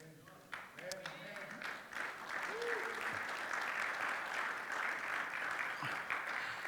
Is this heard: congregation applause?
yes